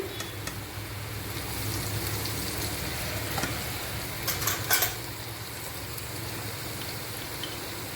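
Pieces of elephant foot yam fry in a pan with a steady close sizzle, a few utensil clinks and scrapes breaking through midway.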